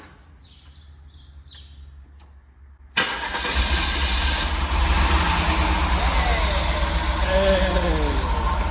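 The Guanci SSJ prototype car's engine catches on its first start and settles into a loud, steady rumbling run, preceded by a few seconds of quieter sound with a high electronic tone.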